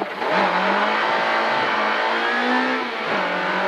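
A rally car accelerates away from a stage start, its engine loud and close, revving up through rising pitch sweeps with a brief dip for a gear change before climbing again, no voices over it.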